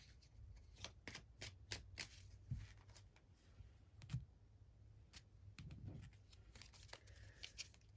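Oracle cards from a crystal-themed deck being shuffled by hand, a run of crisp riffling bursts and soft card slaps repeating across the whole stretch, close and fairly quiet, with no talking.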